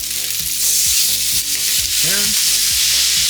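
Bacon sizzles loudly and steadily on a Ninja Sizzle griddle, a constant bright hiss with a brief spoken word and a few tonal clinks over it.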